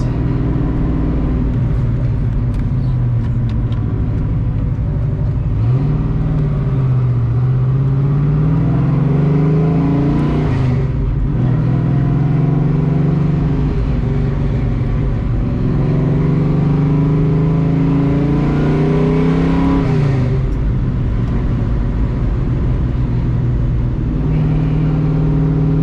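A 1987 Ford Mustang GT Fox body with a 347 V8 and old-school Flowmaster exhaust rumbles loudly and close, idling with a deep burble and rising in several throaty revs before settling back, with no talking.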